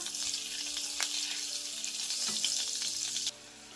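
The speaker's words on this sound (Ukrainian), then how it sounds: "Посмажимо котлети із хитростями. До олії додаємо ще й вершкового масла." Zucchini patties sizzle steadily in a pan of oil and butter, a bright close frying hiss with small pops and occasional spoon scrapes, then the sizzle drops quieter near the end.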